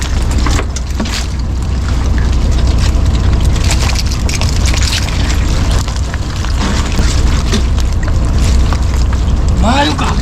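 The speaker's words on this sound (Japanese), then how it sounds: "寄島に向けて漕ぎながら帰ります。" Small rowboat being rowed back toward Yorishima across shallow water near a prawn farm, with steady broadband water and wind noise throughout and a person talking intermittently over it.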